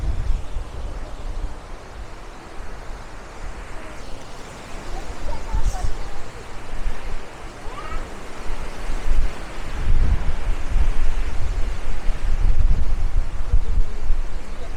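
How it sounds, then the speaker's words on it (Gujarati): Strong wind roars steadily into the microphone outdoors at Bhandardara, Maharashtra, gusting louder toward the end, with a low rumble throughout. "જોરદાર પવન આવતો છે."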